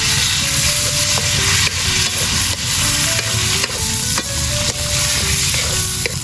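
Flowers frying in melted margarine in a pan, a loud steady sizzle with occasional stirring scrapes, close up and continuous with no talk.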